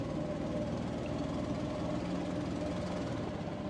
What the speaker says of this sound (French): le petit bateau à rame que je prenais assez régulièrement dans cette région s'est transformé en bateau à Moteur